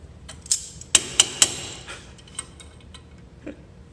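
Metallic clicks and sharp knocks from a puller tool being cranked to push the taper out of a Jaguar E-Type control arm, a handful of distinct ticks with three close, loud snaps near the middle and fainter clicks after.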